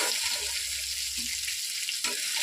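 Fish fries in a pan with a steady close hiss of oil, brief and even, with a faint watery edge and no voices.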